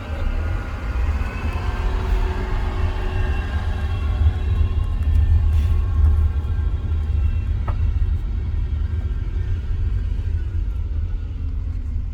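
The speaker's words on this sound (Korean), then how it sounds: "차 시동 켜있다" A car engine idles at a graveside visit, producing a continuous low rumble that stays even and steady from start to finish with no talk over it.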